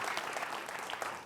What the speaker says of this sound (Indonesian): Tepuk tangan untuk pertanyaan yang luar biasa.